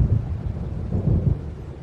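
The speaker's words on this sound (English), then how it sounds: "It seems there's a storm coming." Thunderstorm in Alan Wake Remastered: low, heavy thunder rumbles roll continuously under steady rain, swelling loudest around the middle of the stretch with no voices present.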